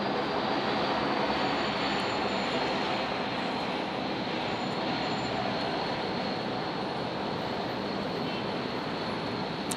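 Singapore Airlines jet departing Brisbane airport, a broad steady engine roar that stays loud and even throughout, heard from a distance with no talk.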